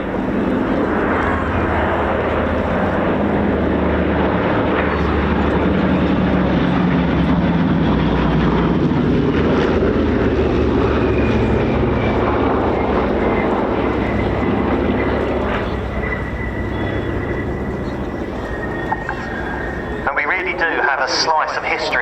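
A P-47D Thunderbolt and a P-51D Mustang, two piston-engine propeller fighters, fly in formation with a B-17 at an airshow, their engines giving a loud, steady drone that swells slowly while a commentator talks over it.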